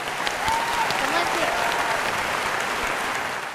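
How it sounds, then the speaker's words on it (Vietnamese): A studio audience at a Vietnamese television game show claps in a dense, sustained burst of applause that swells and holds steady, with a host's voice faintly audible beneath it. "Một tràng vỗ tay dành cho bạn ấy nè."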